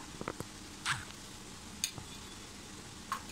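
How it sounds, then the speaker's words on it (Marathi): Ginger-garlic paste for paneer masala sautés in a pan under a soft, steady sizzle, broken by a few sharp scrapes and clinks of a spoon stirring against the metal. No one talks. "छान असं आपण परतून घेऊया"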